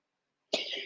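A single short, sharp sneeze bursts out abruptly after silence, close and fairly loud, with a brief breathy tail.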